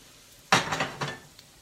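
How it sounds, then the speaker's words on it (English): Butter and chopped garlic hit a hot cast iron pan with a short burst of sizzle and a light clatter of stirring, close and brief, then fading quickly. "And this butter's melting good here."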